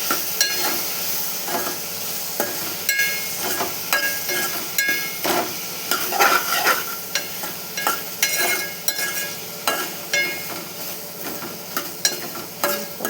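Chopped okra stirs and fries in a hot pan, a continuous sizzle broken by regular close scraping and clanking strokes of a spoon against the metal, with no talk.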